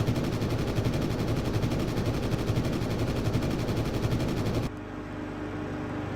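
Aircraft machine guns rattle in a fast, steady burst of gunfire during a dogfight in the IL-2 Sturmovik flight combat game, loud and continuous for several seconds before cutting off abruptly to a lower engine drone.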